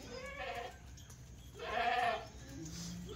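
Kathiawari goats in a herd give a few loud bleats, one stronger cry in the middle, over a low background hum.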